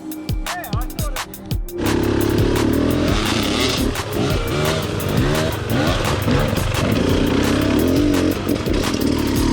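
A dirt bike engine on an enduro trail buzzes loud and close, rising from a few idle pops into a sustained high revving drone with rapid throttle changes.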